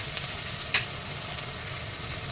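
Ginger garlic paste dropped into onions frying for a tomato mutton dish, giving a steady low sizzle with a brief louder crackle near the start; no voices.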